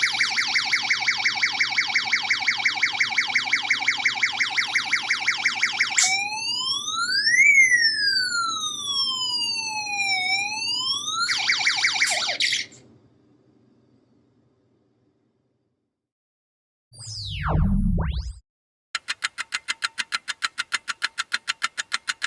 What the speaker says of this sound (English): Turn on the switch S1 connected to the U2 to enable a fast or shorter oscillating siren sound